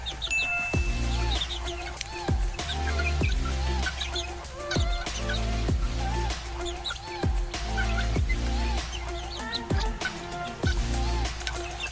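Young Kachidax native chickens, about two months old, cluck and call steadily in a large coop. The sound is a dense, continuous flock chorus with repeated sharp calls, close and loud, and no talk over it.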